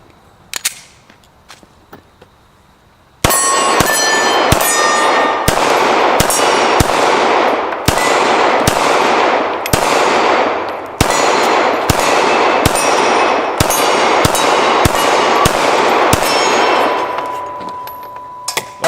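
A Glock 45 pistol fires a string of sharp shots outdoors, each crack followed by a bright metallic clang from steel targets, the rounds coming in quick irregular bursts with short pauses, loud and close.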